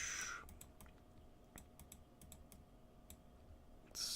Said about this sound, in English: this is me typing it out